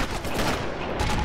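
Enemy gunfire in the Sniper Elite video game, a dense, loud burst of rapid shots filling the whole moment with no pause.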